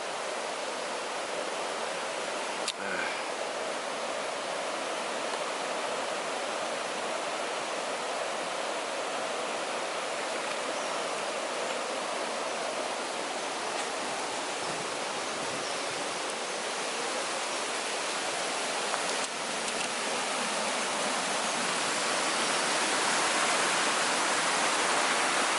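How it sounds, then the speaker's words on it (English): A small beck runs steadily for the whole stretch, a dense, even rush of flowing water close by with no talk and only a couple of faint clicks. "I forget what this beck is called that runs in."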